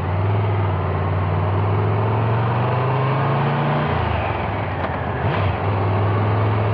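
Triumph Tiger 1200 Rally Explorer motorcycle ridden at low speed, a steady low engine drone with constant wind rush that shifts pitch briefly partway through, continuous and close.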